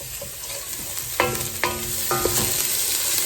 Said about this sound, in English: just sauteing garlic, and you cook the garlic until it's soft